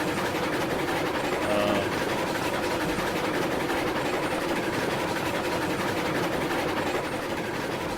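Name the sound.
small steam locomotive running, from video game RailRoads Online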